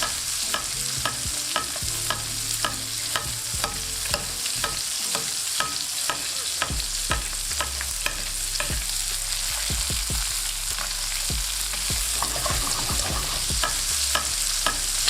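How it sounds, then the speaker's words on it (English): Lamb chops sizzle steadily in a tilted pan while being basted, a dense continuous crackle broken by frequent spoon scrapes and taps, close up with no speech. "now just tilt your pan slightly and baste it for the last minute."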